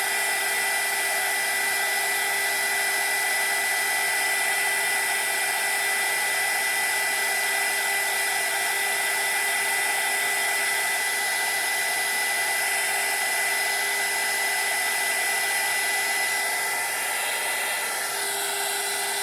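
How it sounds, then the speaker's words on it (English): Heat gun blowing steadily over a craft piece, a continuous loud airy whoosh with a high whine that holds for the whole stretch with no talk. "you just go over this with your heat gun"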